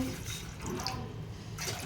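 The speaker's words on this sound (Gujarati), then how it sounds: "એની અંદર બે ગ્લાસ મોટા એવા પાણીના ગ્લાસ ભરીને એમાં નાખીશું" Water splashes and gurgles as two glasses of it are poured into a hot pot while making ghughra, a short continuous rush at low volume with no talking.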